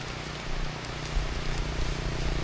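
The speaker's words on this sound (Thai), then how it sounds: "ฝนตกแล้วทุกคนฝนตกลัดทางนะ" Steady rain falls outdoors at a southern Lao waterfall area (Tad Lo, Tad Hang), a dense, even hiss with scattered drops, near and constant without pause.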